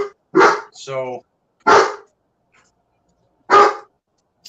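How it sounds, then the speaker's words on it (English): A big dog gives three loud, close barks spaced a second or two apart, with a short word spoken between the first two barks and silence around them. "That's a big dog bark."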